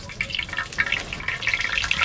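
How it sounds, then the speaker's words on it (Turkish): Quick, irregular drips and patters of rain coming in through a chimney, close and fairly soft, with a faint watery hiss beneath. "Bacadan yağmur gelmeye başladı."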